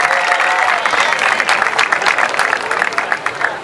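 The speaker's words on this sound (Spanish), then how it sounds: "aplauso" An audience at a Hawaiian outrigger canoe championship event gives loud, dense, continuous applause, steady throughout with no speech on top.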